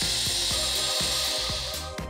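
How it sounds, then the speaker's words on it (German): A Bosch PCM8 miter saw runs at speed through a baseboard at a miter angle, giving a steady loud whine with a regular rhythmic grinding pulse as the blade cuts. "Zuerst sägen wir ein Ende auf Gehrung."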